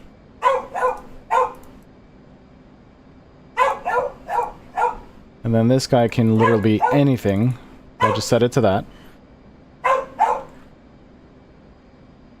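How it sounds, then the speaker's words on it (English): A pet dog barks in short loud bursts at neighbours opening their garage, two sharp runs of yaps in the middle, while someone talks before and after. "My dog is upset at the neighbors for opening their garage"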